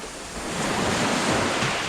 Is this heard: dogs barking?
no